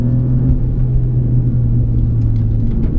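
A loud, steady low engine rumble from an Alfa Romeo Giulia Quadrifoglio driven on track, droning on continuously with no voices.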